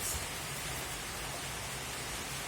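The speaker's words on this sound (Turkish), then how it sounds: "Şu an dışarıda çok güzel bir yağmur yağıyor" Steady rain falls outdoors in winter, a soft, even hiss with no distinct drops, faint and continuous throughout without any voices.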